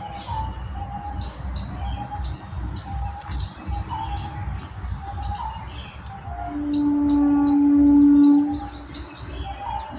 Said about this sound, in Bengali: এই ভিডিওতে যে পাখিদের কোলাহল শুনতে পাচ্ছেন তা এইখান থেকেই সংগৃহীত